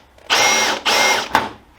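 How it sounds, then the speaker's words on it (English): Two short bursts of a power drill whining into metal, drilling a hole in the center, then a brief third spurt, close and loud with quiet pauses between. "I will drill a hole in the center."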